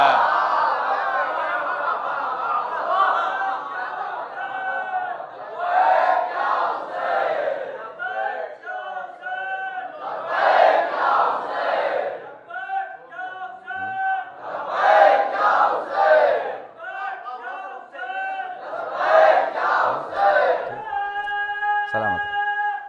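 Large gathering of Shia devotees at a Yaum e Hussain majlis at Dargah e Fatman, Lallapur, chants a religious slogan in loud rhythmic bursts with pauses between, voices rising and falling together, with a sustained tone at the end.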